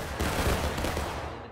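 A musket volley fired together by a line of soldiers in the Civil War game War of Rights, one dense ragged crackle of many shots blended into a single loud burst that quickly fades out.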